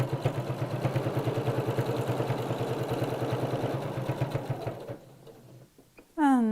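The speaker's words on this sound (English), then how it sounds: "And another lock stitch on the end there." A domestic sewing machine runs steadily for about five seconds in a fast, even rhythm of close, moderately loud stitches as it sews a lock stitch at the end of a seam, then stops, followed by a few faint handling clicks and a brief sharp sound.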